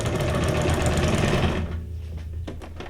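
A sewing machine doing decorative stitching runs in a loud, fast, steady whir for about a second and a half, then stops, leaving a few faint clicks and handling taps.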